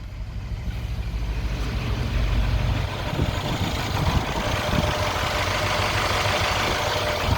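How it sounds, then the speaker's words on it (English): A 2014 Mercedes E63 4matic with 115k km idles in a steady, low rumble. The engine hum is continuous and moderately loud, with no talking. "I'm gonna leave it idling like that."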